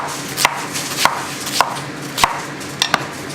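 A knife trims the ends off okra on a cutting board in six crisp, close chops at a steady, unhurried rhythm, the last two coming in quick succession, with no talking.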